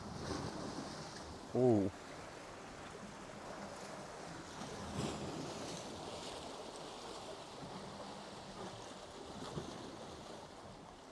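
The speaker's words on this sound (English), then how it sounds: "The tide's coming in a little bit." Ocean waves roll in as the tide rises, a steady surf wash with wind noise on the microphone, and a person briefly exclaims once near the start.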